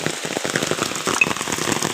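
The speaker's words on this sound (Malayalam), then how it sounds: "കണ്ടോ എൻ്റെ കുടയിൽ നിന്ന് ഉച്ചിട്ട് വീഴുന്നുണ്ട് മഴത്തുള്ളികൾ" Raindrops fall off an umbrella on a rainy evening, a close, dense crackling patter of many small irregular hits.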